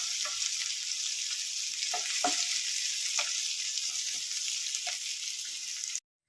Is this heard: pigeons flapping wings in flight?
no